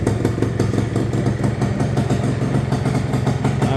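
A 1975 Kawasaki F7 175 two-stroke vintage enduro motorcycle idling up close, a loud, steady, rapid ringing putter with a metallic clatter throughout and no voices.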